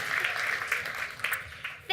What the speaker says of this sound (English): applause to Tim